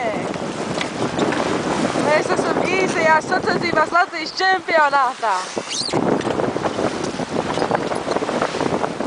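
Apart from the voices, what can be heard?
strong wind at sea on sailboat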